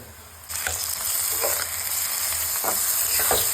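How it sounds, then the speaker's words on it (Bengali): Onion frying in a pan, with a steady loud sizzle that starts abruptly and runs throughout, broken by a few brief scraping stirs of a utensil; no talking. "পেঁয়াজটাকে একটু ভালো করে ভেজে নেব"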